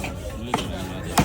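A knife chopping fish at a busy fish market, heard as two solid thwacks about half a second apart over a dense, noisy background of market clatter.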